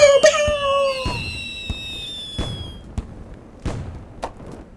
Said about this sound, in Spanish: Ahí estamos, disfrutando los fuegos artificiales